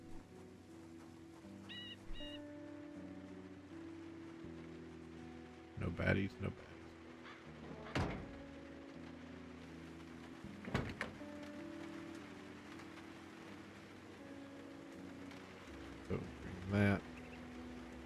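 Steady soft rain hisses in the video game Project Zomboid, forming a constant wash of background noise while someone talks over it now and then.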